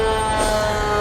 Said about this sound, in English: Love the lights and sirens.